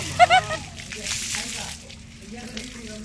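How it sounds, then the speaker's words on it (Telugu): Water sloshes and splashes inside a heavy, full bucket during a family Holi celebration, with several close, uneven surges and voices in the background. "అమ్మో బకెట్ లేవట్లేదు మా కావ్యకి."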